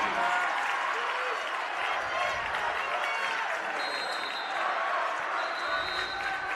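A crowd at a girls' state volleyball quarterfinal cheers and applauds in a steady, dense roar that holds loud and unbroken throughout, with a commentator's voice faintly mixed in.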